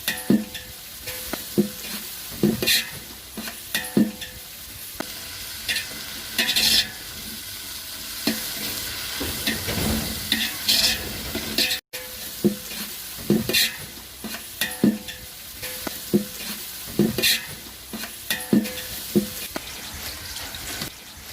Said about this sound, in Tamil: லவங்கம், பட்டை, பிரியாணி இலை இது மூணையும் போட்டுட்டு வெங்காயத்தையும் போட்டுட்டு வெங்காயம் நல்லா செந்நிறமாக வர வரைக்கும் நல்லா வதக்கணும்